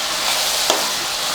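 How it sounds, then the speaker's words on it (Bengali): Turmeric and spices are stirred in hot oil in a pan for dhokar dalna, a loud continuous sizzle with one brief scrape of a spoon in the middle. "একে একটু নাড়াচাড়া করে নেবেন 1-2 মিনিট।"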